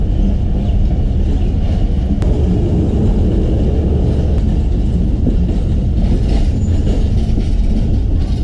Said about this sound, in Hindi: महर एक्सप्रेस भी पहुंचा है अपने वक्त मुकर्ररा पर।